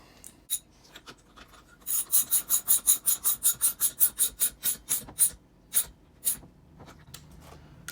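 A wrench tightens a bolt on Braum racing seat sliders in a series of about twenty quick, evenly spaced rasping strokes. The strokes are close and crisp, with a few scattered clicks before and after and no talk.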